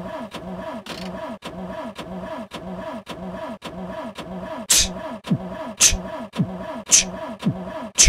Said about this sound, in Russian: Это 100 пудов бензиновый двигатель.